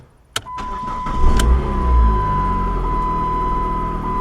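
A PT Cruiser engine cranks and catches just after its battery is reconnected, with a sharp click at the start and then a steady, close idle hum with a thin whine riding over it.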